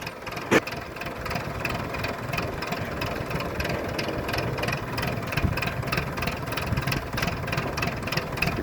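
A diesel tractor engine chugs steadily at idle, a continuous low rumble with rhythmic knocking and a brief clank near the start.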